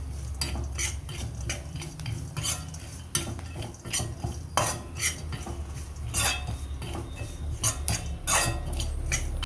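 Chili, coriander and turmeric powder masala for a roasted-coconut fish curry is stirred with a spoon, giving repeated close scrapes and clinks against a pan over a low steady rumble.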